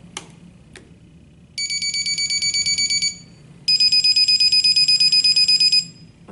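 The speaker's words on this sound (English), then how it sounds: "The Med-E-Lert has 3 alarm tones." A Med-E-Lert pill dispenser sounds its alarm tones: after a couple of faint clicks, two bursts of rapid, shrill electronic beeping ring out close and loud, each lasting a second or two, with no talking.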